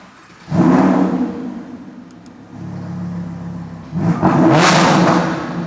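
A Lamborghini fires up from a cold start, the engine barking loudly to life and revving hard, settling briefly into a rumbling idle, then blipping up again with a second sharp roar close to the microphone.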